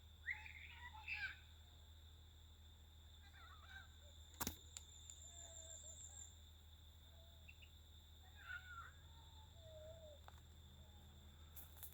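Faint, sparse chirps from small birds at sunset in Jamaica come in short scattered bursts over a quiet background hum, with one sharp click in the middle.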